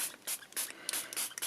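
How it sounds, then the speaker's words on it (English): Walnut ink is sprayed from a spray bottle onto paper craft tags in a series of short, sharp hissing bursts, close and fairly loud, separated by brief pauses. "So I'm first going to spray them with some just"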